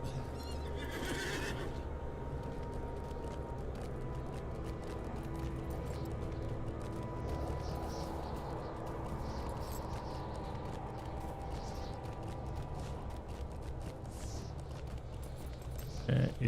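A horse in the online game Lord of the Rings Online gives a sharp neigh near the start, then a steady clip-clop of hooves carries on over a low background score for the rest.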